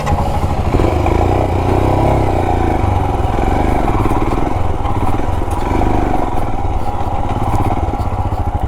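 A BS6 Royal Enfield Himalayan motorcycle's single-cylinder engine thumps steadily while riding, a loud close continuous drone with road and wind rumble and no talk.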